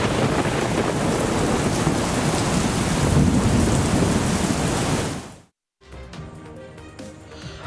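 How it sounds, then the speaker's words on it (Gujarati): Heavy rain roars in a dense, loud wash with deep rumbling underneath, then cuts off abruptly; a quieter, different scene with faint tonal sounds follows. "ક્યાંક ધીમી ધારે તો ક્યાંક ધોધમાર વરસાદ વરસ્યો છે।"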